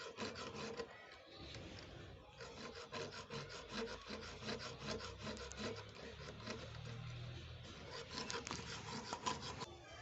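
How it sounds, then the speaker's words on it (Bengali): A hacksaw blade cuts a steel rod inside a cement frame in rapid, even back-and-forth strokes, a close, gritty rasping that continues without pause. "তো রডটা কাটছি"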